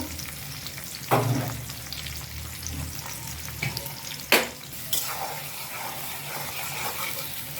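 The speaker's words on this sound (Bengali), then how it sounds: "তেল গরম হয়ে গেছে, এখন আমি এর মধ্যে গাছের খানি পেঁয়াজ দিয়ে দিচ্ছি, তেজপাতা, দারচিনি" Onion, bay leaf and cinnamon frying in hot oil, with a continuous close sizzle punctuated by several sharp clanks and scrapes of a spoon against the pan; no voices.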